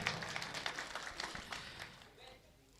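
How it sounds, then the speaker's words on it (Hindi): A hall audience at a Hindi kavi sammelan poetry gathering breaks into applause, a faint patter of claps that fades out toward the end, with a voice mixed in. "मैं चाहता हूँ तीनों के सम्मान में एक बार आप पूरा सदन ताली बजाएं"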